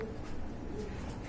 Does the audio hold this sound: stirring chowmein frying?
no